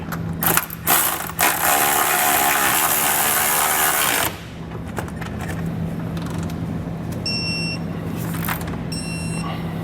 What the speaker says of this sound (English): For our bolts on the top there, we're going to need a 3/4 inch socket and 3/4 inch wrench.